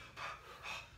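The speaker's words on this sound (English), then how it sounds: "He's gonna shake it out, take a couple exhales." A person exhales heavily twice during a kettlebell sport warm-up, two breathy, moderately quiet breaths in close succession with no talking.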